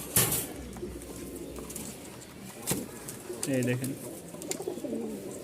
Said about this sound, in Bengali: নরটা খুব সুন্দর ডাক